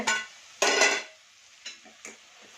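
A spatula stirs beetroot stir-fry (palya) in a pan: two loud, close bursts of scraping and clattering, the second longer, then a few lighter, quicker scrapes and taps against the pan.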